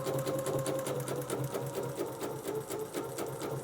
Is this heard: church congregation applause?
no